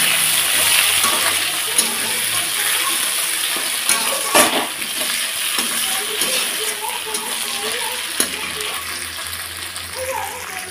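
Tomato hits hot oil with browned onion in a pan and sizzles steadily, with a spatula clinking and scraping now and then, close and fairly loud with no talking.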